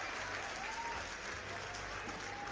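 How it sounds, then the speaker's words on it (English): Applause plays faintly on a live stream as a steady crackle of clapping, thin and distant, with no voices over it. "Thank you, Steve, with a big applause."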